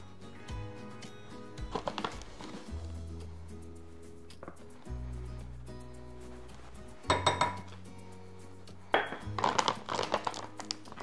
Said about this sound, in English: So I'm going to add 2 tablespoons of inulin.